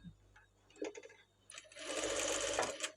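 A sewing machine stitches a blouse lining piece, starting with brief, quiet stitching and then breaking into a louder, steady close-up whirr of needle strokes that stops abruptly.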